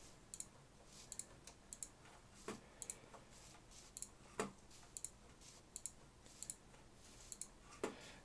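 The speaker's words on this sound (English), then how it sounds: "I'm just gonna keep right-clicking them." Mouse buttons click repeatedly in Minecraft, a steady stream of light, sharp ticks spaced irregularly at close range, fairly faint, with no voices.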